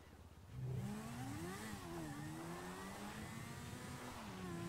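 A motorbike engine in GTA 5 revs steadily and loudly, its pitch climbing and wavering as it accelerates, holding a continuous mid-range drone throughout.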